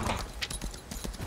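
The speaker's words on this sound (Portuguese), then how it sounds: "Subando no cavalo." Horse hooves clip-clop briskly as a rider mounts a horse in the Lost Ark video game, a short run of close, even hoofbeats.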